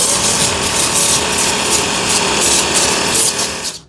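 Hajime HJ-QT4225C cordless brushless jet cleaner blasting a water jet onto cardboard, a loud steady broadband hiss and spatter that continues without pause for about four seconds before cutting off.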